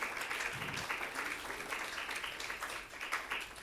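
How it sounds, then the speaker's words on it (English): Audience applause at a comic con keynote, a steady crowd of clapping hands rising and holding at full strength for several seconds, close and dense, with no voices over it. "Can I have a round of applause for Kate George, please?"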